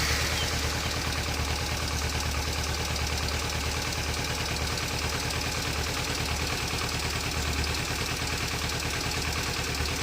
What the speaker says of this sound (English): You can clearly hear the clattering noise coming from the engine.